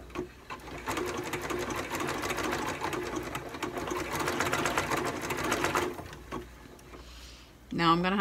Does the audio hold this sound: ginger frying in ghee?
no